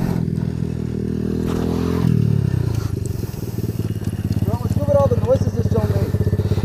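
Apollo 250cc dirt bike rattling as it accelerates, a loud close engine drone rising in pitch with steady clattering pulses and a brief whine, voices faint underneath.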